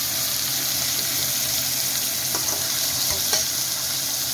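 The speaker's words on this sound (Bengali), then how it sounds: "পেঁয়াজটা একটু নেড়ে দিচ্ছি" Onions frying in a pan, a dense, loud hiss of sizzling oil with a couple of brief spoon scrapes as they are stirred, steady and close with no voices.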